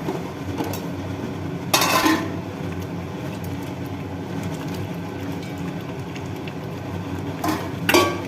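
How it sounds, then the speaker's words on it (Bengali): Fried fish head goes into a pot of boiling moong dal, with a couple of brief metallic clanks of pot and utensil over a steady bubbling simmer, close and moderately loud, no talking. "এর মধ্যে এবার দিয়ে দেব ভেজে রাখা মাছের মাথাটা"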